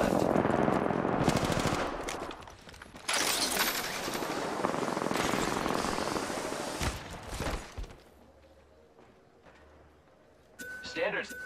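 Gunfire in a shooter video game with a full-auto Prowler and a Wingman, loud sustained bursts of automatic fire, then a quieter lull and a final burst, while a voice talks over the action.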